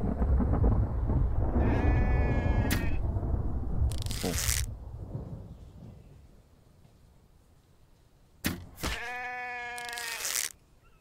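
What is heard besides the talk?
sheep bleating in the video game The Infected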